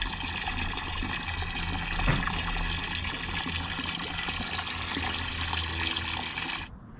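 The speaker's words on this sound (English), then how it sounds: "What you want to do is fill it up with your water." Water pours steadily into a container with a constant rushing splash, stopping abruptly just before the end.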